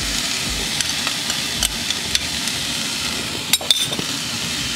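Mixed vegetables and potato fry in a pan, giving a dense, steady sizzle broken by scraping stirring strokes and a few sharper clanks of the utensil against the pan.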